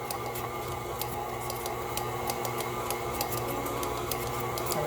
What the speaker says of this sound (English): I like my mixer to do as much of the work as possible